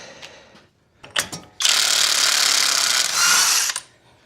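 Ratchet or power tool with a 32 mm socket working the axle nut on a 2012 Ford Focus during wheel bearing and steering knuckle replacement, a few clicks and then a loud, steady whirring burst for about two seconds, up close.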